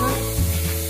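Sliced onions hit hot oil left from frying coconut for a Kerala-style bone curry, giving a steady, loud, close sizzle under a brief hum.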